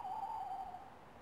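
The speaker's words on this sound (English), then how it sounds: "That was an owl." An owl hoots once at night outdoors, a single sustained call standing out clearly against a quiet background with no talk.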